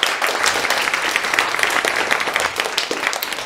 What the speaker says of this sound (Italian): io l'accoglierei con un grande applauso come soltanto noi di C'era una volta sappiamo fare